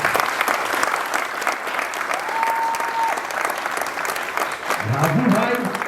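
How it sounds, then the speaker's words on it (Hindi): A celebration audience loudly applauding to welcome writers, sustained dense clapping throughout with a brief voice rising beneath it near the end. "उनका जोरदार तालियों से स्वागत है।"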